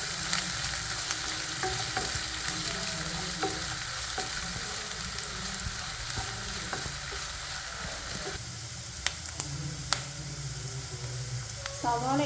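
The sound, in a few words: onions sautéing and sizzling in pan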